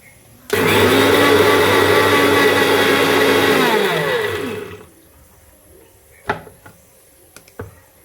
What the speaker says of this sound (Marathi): वेलची आणि साखर आहे ती मिक्सरला एकत्र लावली